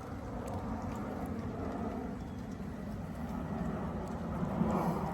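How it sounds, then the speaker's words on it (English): Steady rain falling with constant broadband hiss and patter, no voices, slightly heavier toward the end. "So it's raining pretty good."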